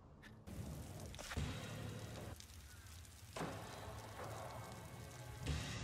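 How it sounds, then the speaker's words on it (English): Steady rain in the video game Warhammer Vermintide 2 patters and hisses continuously, punctuated by a few louder thumps and bursts, with no talking. "Oh, no, it's raining."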